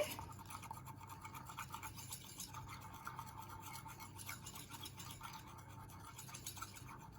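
Icing is stirred in a bowl, producing soft, quiet, repeated scraping and rubbing strokes at close range with a steady rhythm and no talking.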